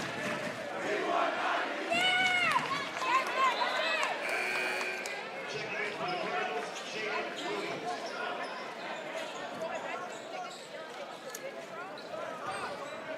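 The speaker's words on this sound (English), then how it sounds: "Crowd giving it to Turnage." A crowd at a boys' high school basketball game between Cardinal Hayes and St Raymonds gets on a player, with sustained shouting and chatter filling the gym. Sneaker squeaks and bounces come through the noise.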